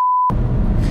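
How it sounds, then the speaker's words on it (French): A single pure electronic censor tone sounds briefly and steadily, then cuts straight into muffled engine rumble from inside a car. "T'étais obligé de le dire? on va le biper."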